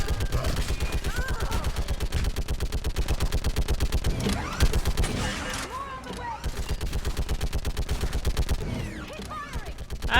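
Sustained machine-gun fire in Mass Effect rattles in a fast, steady rhythm, loud and near, with a person talking and exclaiming over the shooting.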